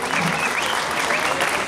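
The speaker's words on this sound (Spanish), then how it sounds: "Un aplauso para él." An audience at a National Drummer's Day event claps in tribute, a brief dense burst of many hands with a few cheers and shouts mixed in, loud and close.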